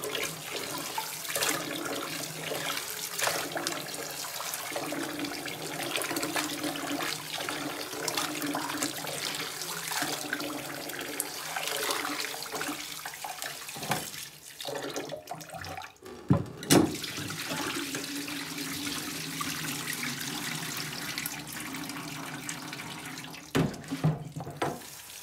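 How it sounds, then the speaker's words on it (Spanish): Tap water runs steadily and close for a long stretch while raw corn for pozole is washed in a sink, with a few clunks and splashes of handling breaking through near the middle and end. "Hay que lavarlo hasta que el agua salga clara."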